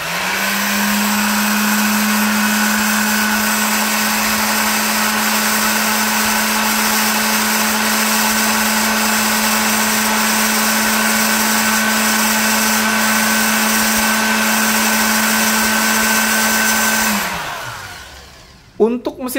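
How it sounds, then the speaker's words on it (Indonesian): A Hasston ART3135-001 electric orbital sander runs with a steady high hum and buzz for a long stretch, then spins down to a stop. "Untuk mesin amplas yang secara gerakan itu pasti bergetar ya"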